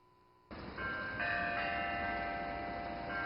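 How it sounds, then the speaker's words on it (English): Bells ring out after a quiet moment, sustained metallic tones layering and lingering, fairly loud and resonant with no voices. "the sounds of the bells attracted my attention"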